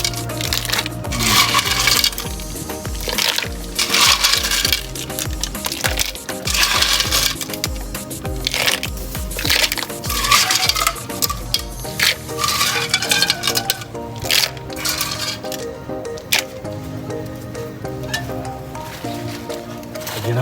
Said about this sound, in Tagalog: Lagay na natin yung tulya. Haluin natin mga kanayon.